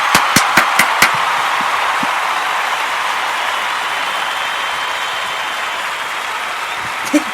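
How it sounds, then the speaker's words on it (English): A studio audience applauds on a music and entertainment talk show: a steady, full wash of clapping that opens with a few sharp, distinct claps and holds at an even level throughout. "I just love an applause."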